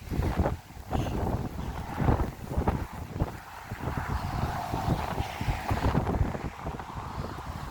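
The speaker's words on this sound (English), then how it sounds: "And the actual wind's coming from the side" Crosswind buffets a microphone while someone cycles between Alness and Invergordon, producing gusty, rumbling blasts that rise and fall continuously with no speech.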